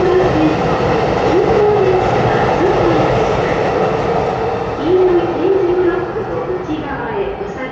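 An express train rushes past close by in a continuous loud rumbling roar with rattling wheels and brief rising whines, while people talk over it.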